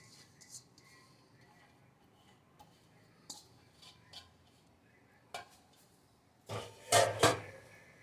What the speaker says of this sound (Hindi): और अब हम इसे अच्छी तरह से मिक्स कर लेंगे।